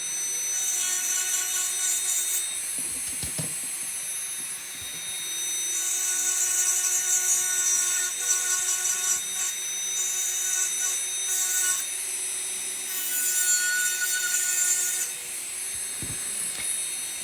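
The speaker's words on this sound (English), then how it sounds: "when you're filing with electric file, it's more difficult to file because you have glitter" An electric nail file buffs glitter-coated nails with a steady high-pitched whine that rises and falls in several passes, close and fairly quiet, with no talking over it.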